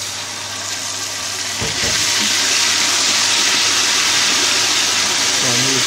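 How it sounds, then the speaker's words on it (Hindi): Water is poured into a cooking pot of browned onions, giving a loud, continuous sizzling hiss that swells after a brief splash and stays dense throughout. "अभी थोड़ा सा पानी डालेंगे।"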